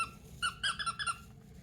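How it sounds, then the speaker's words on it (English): A mouse squeaks in a quick, faint series of four or five high chirps, alone over a low background hum. "We're stopped in our tracks by the squeak of a mouse"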